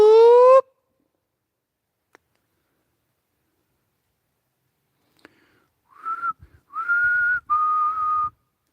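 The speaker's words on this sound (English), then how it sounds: "So if you see it, if you hear a good loud whistle, it was not me." Loud human whistling comes in bursts near the end, a few sustained whistled tones after a brief higher voiced call at the start, with near silence between.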